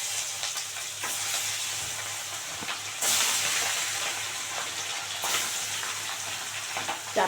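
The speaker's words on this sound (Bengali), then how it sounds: "এবার মাছগুলো ভালো করে কড়া করে ভেজে নেবো।" Bok sea fish pieces frying crisp in hot oil in a kadai, giving a continuous bright sizzle with crackling bursts and stirring scrapes, steady and close with no talk.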